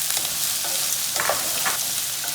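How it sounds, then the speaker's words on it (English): Onions and mushrooms sauté in a pan for red sauce pasta, a steady close sizzle with a few scraping stirs of a spoon breaking through. "And the onions and saute them. I'm adding the mushrooms as well."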